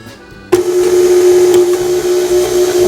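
A stand mixer fitted with a paddle attachment carrying a silicone scraper starts up abruptly and whirs steadily, beating sugar with a loud, constant motor hum and faint rattling throughout.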